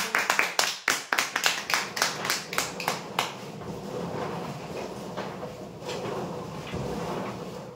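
Applause for a prize draw winner at a weekly customer lucky draw: a burst of rapid, loud hand claps from a crowd that fades into a general murmur of voices and room noise.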